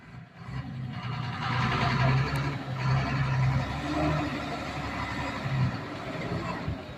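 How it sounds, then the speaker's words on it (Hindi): A borewell-site vehicle is put in gear and rolls off slowly, its engine a steady low rumble with a faint tonal hum that holds fairly loud and even throughout. "अब गाड़ी गियर में डाली है, टेटा भाई निकल जाएगी।"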